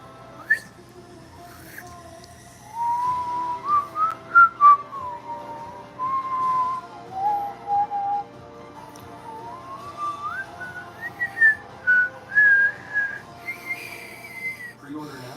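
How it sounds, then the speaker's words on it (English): A person whistling a meandering tune, clear and close, in phrases with short pauses between them, with little else around. "so how about I try a little whistle?"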